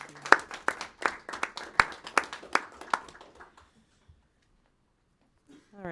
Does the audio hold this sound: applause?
yes